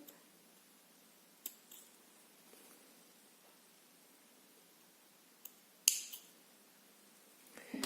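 Scissors make a few quick, quiet snips into dressmaking fabric beside an invisible zipper, isolated clicks separated by near silence, with a short cluster of sharper cuts toward the end.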